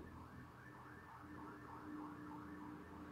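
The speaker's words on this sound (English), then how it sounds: "Ambulance!" An ambulance siren wails continuously at moderate distance, its rising and falling tone steady and unbroken, with a low background rumble beneath it.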